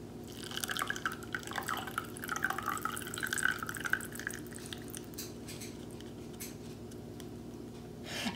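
Buttermilk from freshly churned butter dripping through a small strainer, quiet irregular drips and trickles close by against a faint background hum.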